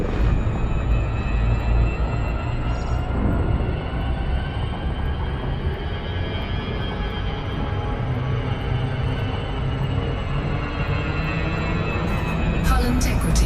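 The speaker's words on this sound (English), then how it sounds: "Frameshift drive charging." A spaceship's frameshift drive in the Elite Dangerous video game charges and jumps with a loud, continuous engine-like roar and a high whine that climbs steadily, then bursts into a brighter surge at the end.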